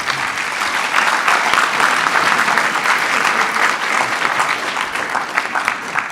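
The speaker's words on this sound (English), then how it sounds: "give him a round of applause" Sustained audience applause at a high school band concert, a dense steady clapping that fills the room without a break from start to finish.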